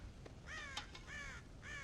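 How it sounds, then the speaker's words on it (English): Crows cawing near a farm silo where they are raiding stored corn: a few harsh, hoarse caws repeated in quick succession, moderately distant, with no voices. "God damn crows!"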